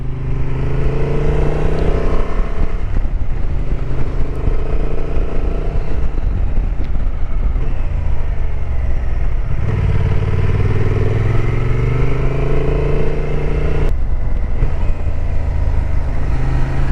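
Honda XL750 Transalp 2023 motorcycle engine under way with a quick shifter, a loud, steady drone that rises and drops in pitch through several gear changes, with constant wind rush and no talking.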